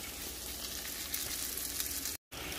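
Potatoes sizzle in a skillet over the heat, a steady, moderately quiet frying hiss throughout with a brief dropout near the end and no voices.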